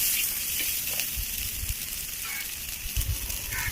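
Chopped onions sautéing with salt in a pan for a home-style Tamil mutton gravy, giving a steady, close sizzle and hiss that runs throughout with only faint stirring.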